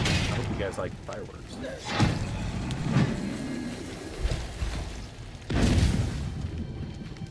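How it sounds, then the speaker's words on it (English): Fireworks-style blasts go off in the video game Eternal Strands: several sharp booms, two of them loud and close, amid ongoing game effects and someone talking. "I hope you guys like fireworks."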